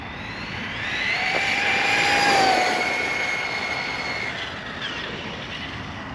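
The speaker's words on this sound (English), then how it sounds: "Give it a little speed run on the stock gearing." An Arrma Talion EXB RC car on a stock-gearing speed run gives off a high electric motor whine that rises in pitch and swells in loudness, peaks around the middle, then slowly fades as it pulls away.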